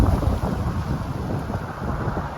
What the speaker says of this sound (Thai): สียงลมกระทบใบไม้นะคะ